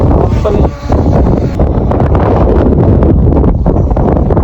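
Strong wind buffets the microphone during a drone flight, a loud, continuous roar of rumbling gusts with brief dips, no voices clearly heard over it.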